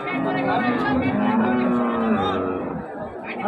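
A cow moos in one long, loud, drawn-out call at a village cattle market with a calf nearby, fading out near the end.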